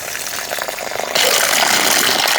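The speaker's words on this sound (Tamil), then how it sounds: "இப்போ தண்ணியை வெளியே கொட்டிக்கிறோம்." Rinse water is poured out of a cooking pot of washed raw rice, a steady close gush of water that grows louder and fuller about halfway through, with no voices.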